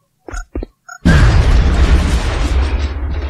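A vehicle explodes in the strategy game X-COM: Enemy Unknown with a sudden loud boom, then a long rumbling roar of fire and debris. A few short clicks and blips from the game come just before.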